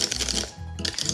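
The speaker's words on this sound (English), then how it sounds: "And whisk it." Olive oil is whisked by hand in a bowl for a simple cake batter, quick rhythmic scraping strokes that pause briefly midway, then resume close and clear.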